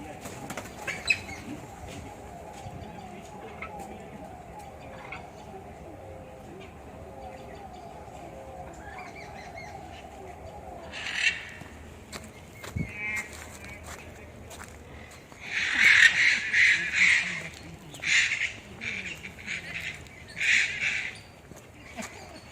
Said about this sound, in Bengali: পাখির ডাক শুনুন সবাই।